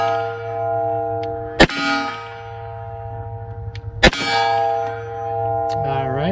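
Two sharp gunshots each followed by a ringing clang from a large steel IPSC target, spaced a couple of seconds apart, with the metallic tone sustaining and fading after each hit.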